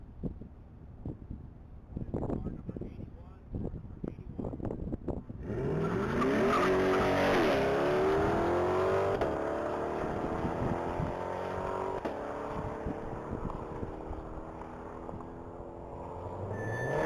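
Blue 2024 Chevrolet Corvette at a top-speed mile event roars past at speed, engine note rising from a distance into a loud sustained blast with sweeping pitch, preceded by scattered clicks and knocks.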